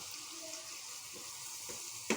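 Small fish with chili powder, salt and spices are turned in a pan, giving a soft, steady frying hiss with a couple of faint scrapes from stirring, fairly quiet overall.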